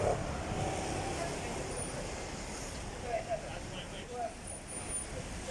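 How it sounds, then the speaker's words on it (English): Road traffic passing near Speakers' Corner in London, a steady low rumble of cars and heavier vehicles some distance off, heard beneath someone talking. "just got a bit of traffic here."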